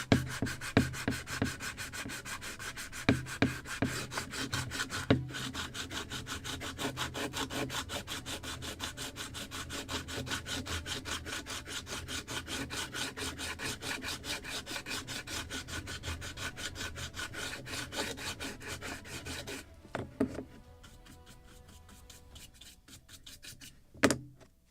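Sandpaper rubbing over filler on a wooden Midwest kit model of a Muscongus Bay lobster smack, a steady close scratchy back-and-forth rasp running continuously for about twenty seconds, then a few separate strokes and a pause.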